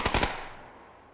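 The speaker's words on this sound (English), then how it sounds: "Where did that mortar strike come from?" Mortar-strike explosions in a PUBG match: three rapid, sharp blasts in quick succession, then a long fading rumble, with no voices.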